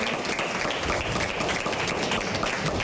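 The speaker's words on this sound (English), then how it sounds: "Give a round of applause to the man." Studio audience applauds a guest on a night-time TV line-up, a steady dense wash of clapping that holds at an even level throughout with no speech over it.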